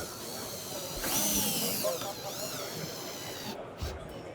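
A power drill drives Torx 40 screws into a D-plate on a roof mount, whining in short rising bursts with a voice speaking nearby.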